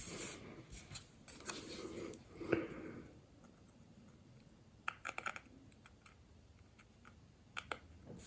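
Small scissors or a hobby knife trims parts of a 1/200 scale paper ship model, producing quiet, close snips and clicks in irregular bursts against a faint room hush.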